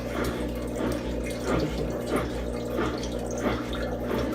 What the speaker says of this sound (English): we're still draining out, you know, quite a bit of water